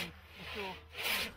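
Two-man pit saw cutting timber over a saw pit at an open-air museum demonstration, giving a steady rasping rub of the blade through wood, moderately close, with a louder stroke near the end.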